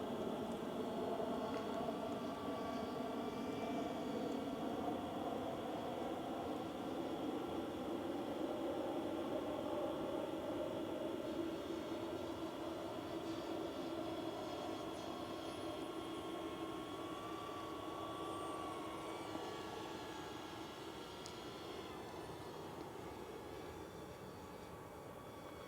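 A DJI Avata 2 drone flies through a snowstorm, its high, whining propeller buzz steady and continuous with slowly shifting pitch, softening slightly toward the end as it moves away.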